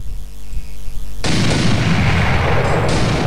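After a low rumble, loud sustained gunfire erupts in a Minecraft Transformer mod PvP battle, a dense, harsh blast of shots that continues steadily to the end.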